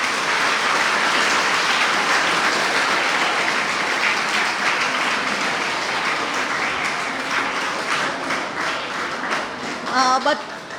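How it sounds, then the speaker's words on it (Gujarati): Audience applause for the speakers at a children's book-talk gathering, a full sustained burst of clapping that gradually thins toward the end, with a few voices rising near the close. "ચાલો, હવે એક વખત તમારા બધા માટે અને આજના વક્તાઓ માટે ખૂબ તાળીઓ પાડીએ."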